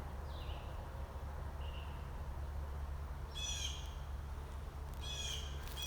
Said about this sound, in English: I don't really know the bird sounds around here yet.